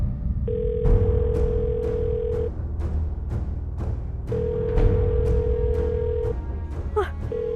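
An outgoing phone call rings without being answered, giving two long, evenly spaced ringback tones over a busy background with rhythmic thumps, then a short chirp near the end.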